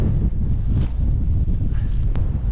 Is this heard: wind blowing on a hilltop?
yes